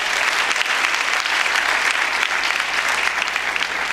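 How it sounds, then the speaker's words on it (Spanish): A church congregation claps loudly and continuously in praise, a dense, even wall of applause with no break throughout. "Y le damos fuerte el aplauso al Señor."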